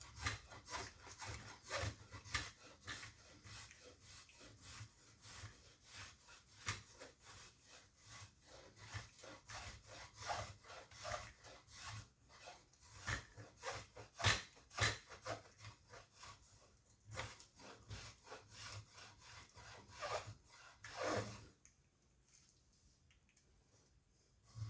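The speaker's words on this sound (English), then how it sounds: "Sanding will also get these little nicks out of it." A honeysuckle wood walking stick is sanded by hand in long rhythmic scraping strokes, each a soft raspy rub, repeating steadily and close for over twenty seconds before pausing near the end.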